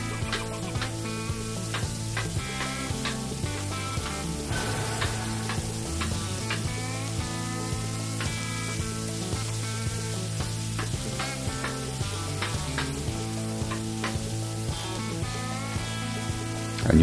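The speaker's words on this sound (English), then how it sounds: "You can start to chop it up." A bacon burger sizzles and fries on a hot flat top griddle around 400 degrees while a spatula chops it up, steady crackling with repeated short metallic taps over a continuous tonal background.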